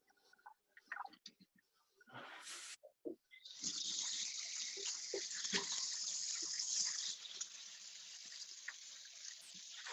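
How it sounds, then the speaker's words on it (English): Cold tap water running into a bowl for washing lettuce, with a few clinks and handling knocks first, then a steady, close gushing stream that continues to the end. "you're going to fill that up with ice cold water, the coldest water that you can get out of your tap"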